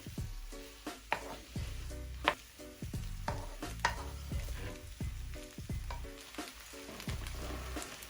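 Rice for prawn fried rice fries loudly in a pan, a continuous sizzle broken by repeated scraping strokes of a spatula stirring and tossing the grains.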